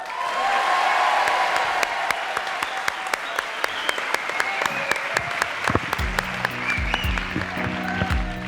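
Studio audience applause on a French television variety show, dense clapping that settles into rhythmic, evenly spaced sharp claps, with music entering partway and a voice briefly under it.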